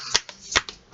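Tarot cards are shuffled in a few quick, soft riffling flicks, close and crisp in a quiet room.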